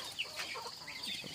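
Chickens cluck softly nearby in the dark before dawn, still roosting, a few short murmuring calls over a quiet background.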